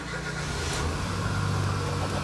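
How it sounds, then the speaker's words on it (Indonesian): A 2011 Nissan March 1.2 automatic starts up, its small engine settling into a steady, close, mid-loud running hum with a low rumble throughout and no voices. "Saya akan nyalakan mesinnya."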